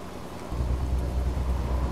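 Heavy rain drums on a Hino 500 truck on the road near Manizales, Colombia. A steady broadband hiss is joined halfway through by a deeper, louder rumble, with no talking.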